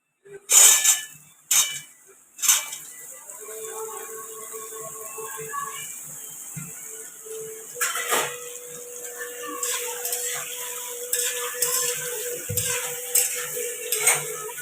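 Cut raw mango for pickle is stirred in a pan, starting with a few sharp metallic clanks and followed by soft, continuous scraping with a faint sizzle and occasional utensil taps, with no one speaking.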